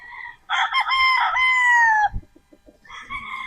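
A Sweater Boston gamefowl rooster lets out one loud, close crow that rises and then trails downward, followed by a brief pause and the start of a second crow.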